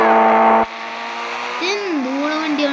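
A car engine revs loudly and close with a strong harmonic drone that cuts off abruptly. A lower, wavering engine tone with rising and falling pitch swoops follows.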